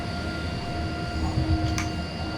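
A heavy freight locomotive hauling coal wagons rumbles steadily in the Simrail train simulator, a continuous low drone with faint tonal hum, running alone without talk and a brief metallic hiss near the end.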